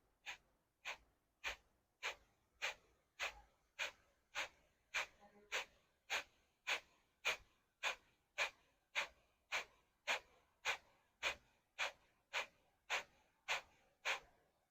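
Sharp, forceful nasal exhalations from Kapalabhati breathing in a yoga class come in a steady, evenly spaced series of about twenty-five pulses, close and clear with no talking over them.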